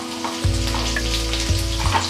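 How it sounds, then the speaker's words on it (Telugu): Minced garlic and green chilies fry in hot oil in a pan, giving a continuous close sizzle. A low mechanical hum runs underneath, and two soft knocks are heard. "ఆయిల్ వేడి కాగానే సన్నగా తరిగిన వెల్లుల్లి రెబ్బలండి, చూస్తున్నారు కదా, వేసేసుకోండి. అలాగే పచ్చిమిర్చి ముక్కలు కూడా వేసేసుకోండి."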